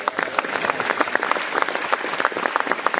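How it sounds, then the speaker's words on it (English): A lecture-hall audience at a talk on the Muslim community breaks into steady, dense applause, many hands clapping together at a fairly loud, even level throughout with no voices over it. "You won't be clapping when you hear the next comment."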